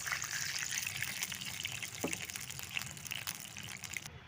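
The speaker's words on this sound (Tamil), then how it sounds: "பாருங்கள் ஃப்ரெண்ட்ஸ், தண்ணி எல்லாம் ஊற்றியாச்சு." Water pours steadily in a continuous gushing stream, filling a pot, with faint clinks in the background and no talking.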